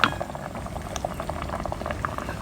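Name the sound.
sauce boiling in a pot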